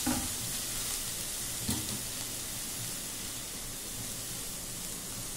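Peanuts and dried red chillies frying in oil, a steady close sizzle and crackle with a soft stirring scrape early on, no talk.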